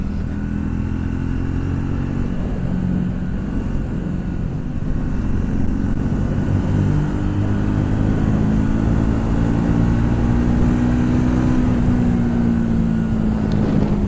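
A Triumph Speed 400 motorcycle (MY25) pulls hard under throttle on the road, its engine note rising steadily in pitch as it accelerates, loud and continuous with wind rush throughout.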